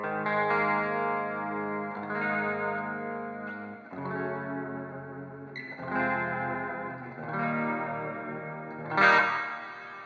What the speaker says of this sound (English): You hear a lot of that modulated tail of the reverb.